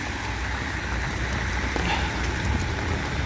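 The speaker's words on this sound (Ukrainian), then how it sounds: "Так що і у нас пішов дощик" Steady rain hissing and pattering on surfaces, dense and continuous, fairly close, with no voices.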